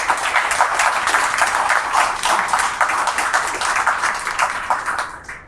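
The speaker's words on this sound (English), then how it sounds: "So let's hear a big round of applause." Big round of applause for a guest at the close of a talk-show segment, steady dense clapping throughout, fairly loud, fading slightly at the very end.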